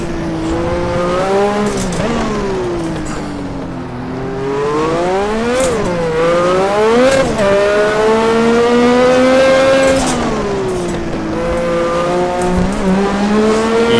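A turbocharged F1 car on the Adelaide circuit, engine loud and close, climbing and dropping in pitch through repeated acceleration and gear changes with a brief lift near the middle, no talk.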